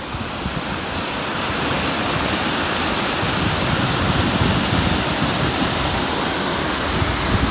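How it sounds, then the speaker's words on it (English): Floodwater pours into a lake at Harthill, a steady, loud, broadband rush of flowing water that holds constant throughout with no talk. "Another quick look at the water flowing in."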